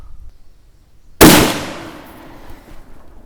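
Swiss K31 rifle in 7.5x55 firing a handloaded round, one sharp loud crack that decays into a short rolling echo outdoors, with no voice.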